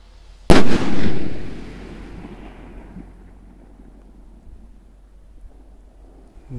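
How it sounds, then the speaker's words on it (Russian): A powerful firework rocket explodes at night with a single loud, sharp bang, followed by a long rumbling echo that slowly fades into quiet outdoor ambience. "Вот это она бабахнула, такое эхо жесткое было."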